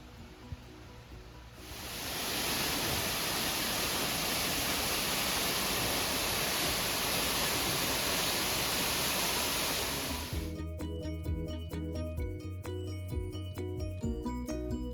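A small waterfall on a countryside walk near Barnard Castle rushes steadily in a broad, continuous hiss that swells in after a quiet start and then cuts away to other sounds near the end.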